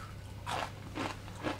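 Homemade buckwheat and almond granola crunches in three close, brittle bites over a faint background hum.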